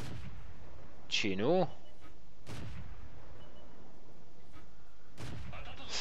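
Type 1 Chi-He tank cannon firing in a World of Tanks style video game, several sharp booming shots spaced a few seconds apart over steady engine rumble, with someone talking briefly.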